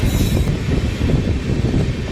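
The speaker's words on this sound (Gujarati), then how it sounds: "એર્નાકુલમથી આવી છે ને ઓખા જાય છે આ ટ્રેન. Train number 16338." The Ernakulam–Okha express, train 16338, rumbles past at a station with a dense, loud rolling roar of wheels and carriages, continuous and close, with some metallic clatter.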